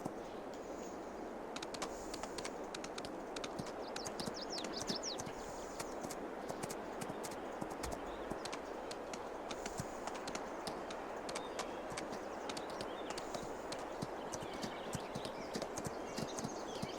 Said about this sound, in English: Let's just go ride these horses real quick